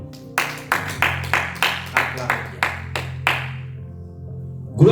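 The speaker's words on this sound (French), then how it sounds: "Acclamons la parole de Dieu." Church congregation clapping in a rhythmic, evenly spaced beat of about ten claps, with a sustained organ or keyboard tone underneath, then fading out.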